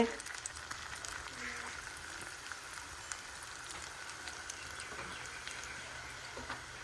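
Onion fritters (piyaju) frying in a batch of hot oil make a steady, soft crackling sizzle like light rain, continuous and fairly quiet throughout.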